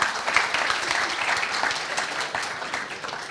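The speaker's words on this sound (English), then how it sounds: "if we could have another round of applause for these 5 fantastic people" Audience applause at an email-industry summit for a panel of five speakers, dense continuous clapping from a crowd, loud and sustained throughout.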